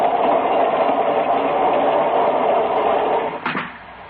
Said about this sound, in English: The train lurched.